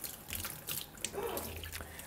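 Water runs steadily from a tap into a sink, a continuous soft splashing hiss with a few brighter drips and splashes.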